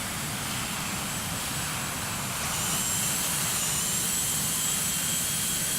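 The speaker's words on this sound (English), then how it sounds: "But hey, engine sounds." The jet engines of an MD-80 in the Prepar3D simulator drone in flight, a dense, steady broadband roar with a faint high whine that swells slightly partway through, with no voices.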